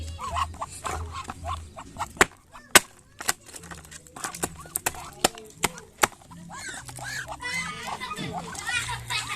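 Laying Muscovy ducks honk and call while eating crushed rice-field snails, with scattered sharp pecking splashes and clatter close by, and low hissing calls between; a voice and other talk are faintly audible.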